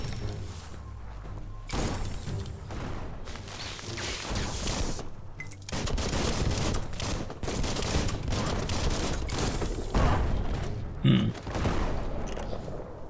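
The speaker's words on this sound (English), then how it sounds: "That's a bomb lobber." Bomb lobber weapon in the video game Biomutant, giving a dense, continuous barrage of blasts and crashing impacts that stays loud and busy for the whole stretch, with no voice over it.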